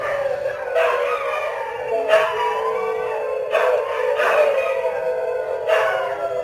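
Dogs in a Myanmar village bark and howl at night, a nearby chorus of overlapping howls and repeated barks rising and falling in several waves over a steady background.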